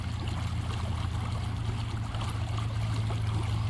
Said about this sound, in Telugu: పెద్ద చెరువులో నుంచి నీళ్లు ఎట్లా పోతున్నాయి చూడండి.